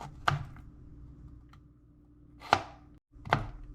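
Vegetables being finely diced with a knife, three sharp, separate chops on a cutting board, close and fairly quiet with pauses between.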